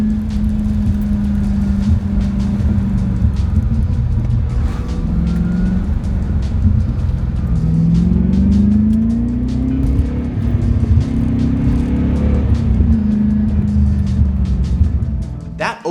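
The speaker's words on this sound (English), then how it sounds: "I love the sound of the exhaust burbling on the overrun." C4 Corvette with Magnaflow mufflers driving along, its exhaust droning steadily, then rising and falling with revs, with occasional soft popping burbles on overrun heard from inside the car.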